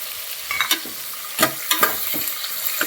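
Curry leaves frying in hot oil for an ivy gourd curry: a loud, close sizzle broken by sharp crackles and pops, with scattered stirring scrapes, no voices.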